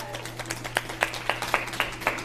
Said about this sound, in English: let's give them all a warm round of applause